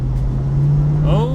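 A 1996 Chevrolet Corvette engine hums steadily at close range, then its pitch climbs as the car accelerates, with a voice talking over the engine.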